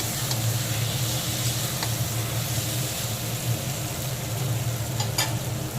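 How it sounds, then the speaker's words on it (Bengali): Potatoes being sautéed with spice masala in a pan give a steady, close sizzle and hiss with a low hum beneath and a couple of faint clinks. "আলুগুলোকে আবারও দু থেকে তিন মিনিট সময় নিয়ে এই কষানো মশলার সঙ্গে আবারও একটু কষিয়ে নেব"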